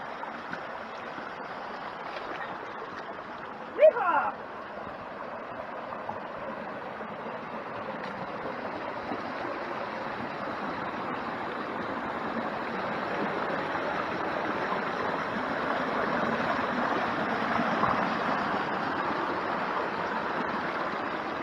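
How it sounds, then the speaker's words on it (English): Creek water running past a 2-inch pipe held in place by a small dam at a historic gold claim, a steady broad rushing flow with one brief knock early on. "Water's just flowing and pushing it because we have a natural fall."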